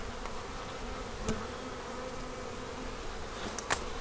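Honey bees buzz steadily in a packed hive full of brood and honey, a dense continuous hum close by with a few brief knocks.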